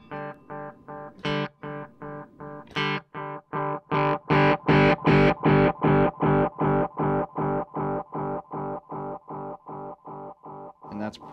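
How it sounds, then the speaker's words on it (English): Distorted guitar notes repeat in a rapid, steady delay pattern through a Sitori Sonics Tapeworm delay pedal, with a grittier and louder stretch in the middle before the echoes settle and continue. "You can add distortion to this."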